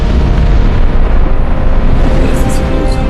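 A Big Bang explosion in an animation roars as a loud, sustained, broadband rumble that stays steady throughout with no break.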